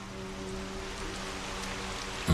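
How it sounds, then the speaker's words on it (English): Steady rain pours down in the rainy cyberpunk city of the video game Observer, a continuous soft hiss with a low hum underneath and a brief louder thump at the end. "Don't mind the rain?"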